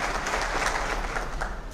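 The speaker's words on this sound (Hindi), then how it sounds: "नेता और राज्यसभा के सांसद विनय तेंदुलकर जी, उनका भी तालियां बजाकर स्वागत करें।" Audience applause at a government beneficiary programme in Nandurbar, greeting a senior leader and Rajya Sabha member; steady, dense crowd clapping, fairly close, continuing throughout without a break.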